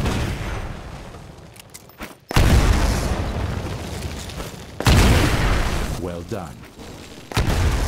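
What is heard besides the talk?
grenade explosions in video game Titanfall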